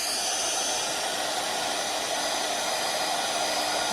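Heat tool blowing hot air onto embossing powder on a watercolored card, a steady loud whooshing fan roar that holds constant throughout, close to the listener with no other sounds.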